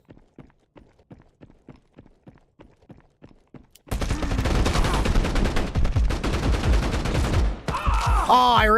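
Gunfire in a PvP video game, with sparse rhythmic steps or shots at first, then a sudden dense, loud barrage of rapid fire that continues for several seconds before changing to another burst.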